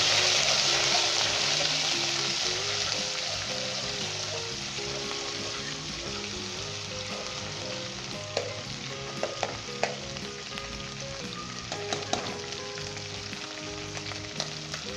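Ginger garlic paste and ground masala are stirred in a frying pan for Lahori chana, with a steady sizzle and occasional sharp scrapes of the spoon against the pan, fairly close and with no talk.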